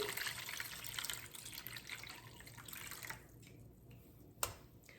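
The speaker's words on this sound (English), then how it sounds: "So I'm going to fill the water about halfway to the cake pan. So I'm going to pour it right in." Water pours steadily into a roasting pan to make a water bath for a coconut bread pudding, a faint close splashing rush that thins out after a few seconds, with one small clink near the end.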